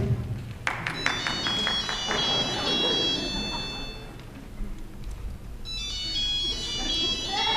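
An electronic ringtone melody chimes in bursts of high tones, stopping and then starting again later, over murmuring and rustling in a room.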